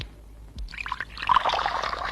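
Hot water for tea pours into a glass, a soft trickling that builds into a steady, brighter splashing stream, close and fairly quiet with no talking.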